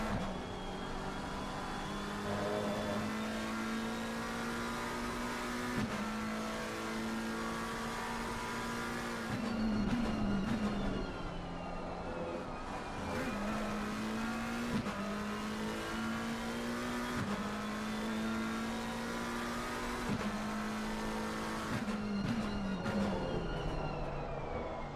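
Mercedes and McLaren race cars in a sim racing game at Belgium, engines revving and shifting up through gears in repeated rising sweeps, loud and continuous with several cars running together.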